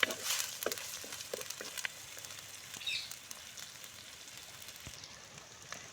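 Tomato, tamarind and spices sauté in a pan with a faint, steady sizzle and crackle, with a few soft stirring clicks and no talk.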